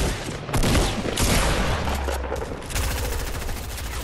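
Rapid bursts of automatic gunfire in the video game Fortnite, with loud, dense volleys that overlap and continue nearly without pause, close and punchy.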